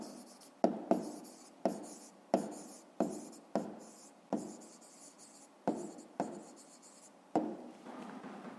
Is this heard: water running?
no